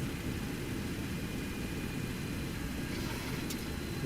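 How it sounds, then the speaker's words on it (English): Steady, loud cabin roar of a simulated airliner on approach in a flight simulator, with a faint tonal whine rising briefly near the end as the flaps extend to position 5. "Love the flap sounds."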